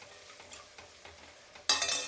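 Onions fry in a pan with asafoetida and turmeric, a faint stirring clatter at first, then a sudden loud burst of sizzling near the end, close by.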